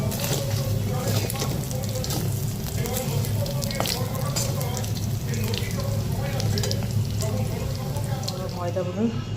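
Coconut and peanuts fry in a pan for a dry curry, with a steady close sizzle and scraping stirs throughout, while someone talks over the cooking.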